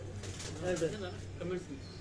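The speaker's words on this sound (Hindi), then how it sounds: "ये कितने अरसे से कबूतर आपके पास मौजूद है?" Pigeons kept for decades on a rooftop loft coo softly in a few low, rolling phrases, faint against a hum of background noise and distant voices.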